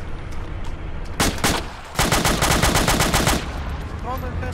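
Mounted gun fired in a video game, a loud rapid automatic burst, a short gap and a longer sustained burst over constant battle noise.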